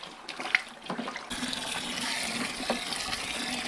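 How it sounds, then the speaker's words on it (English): Tap water pours steadily into a home-brew vessel of nettle beer, a close, continuous rushing and filling sound that starts up strongly partway through after a few small knocks. "Now we're going to top it up with water."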